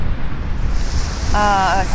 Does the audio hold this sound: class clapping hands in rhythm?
no